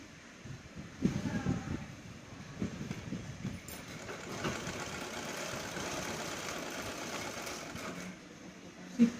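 A sewing machine stitches cloth during a tailoring class, a rapid mechanical chatter in bursts, then a longer steady run, close by with intermittent talk.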